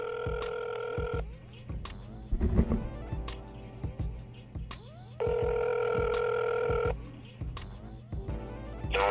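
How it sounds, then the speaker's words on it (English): An outgoing call rings on the line in a hip hop and politics talk segment, with long, steady ringback tones repeating at intervals and clicks and faint background sound between rings. "let me call this brother up on the phone"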